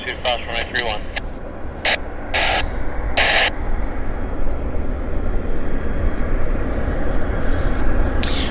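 An Air Canada 297 airliner lands on runway 8 left at Vancouver YVR airport, a broad, steady jet roar that slowly swells, with a few short bird-like chirps early on and no talk.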